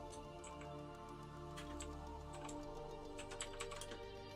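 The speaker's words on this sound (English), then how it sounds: "I'm sure you can hear my keyboard, but I like clicky keyboards." Clicky computer keyboard typed on during a gaming session, with a steady run of sharp, close keystrokes over a low background hum.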